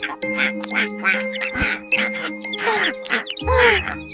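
Repeated duck quacks in quick succession in a children's nursery rhyme song over light tinkling music, with a louder burst of quacking near the end.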